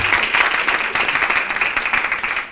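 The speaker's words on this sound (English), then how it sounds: "yes, round of applause, Crystal Tenner" Applause from an audience at a school board workshop meeting, dense steady clapping close by for a couple of seconds, tapering slightly at the end.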